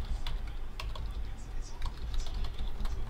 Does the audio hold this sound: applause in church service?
no